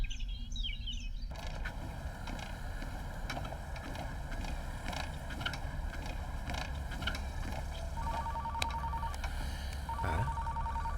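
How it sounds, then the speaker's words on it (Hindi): A phone rings in short, repeated electronic bursts over a constant background hum of noise. "कट्टप्पा का फोन आया है।"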